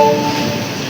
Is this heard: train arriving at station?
yes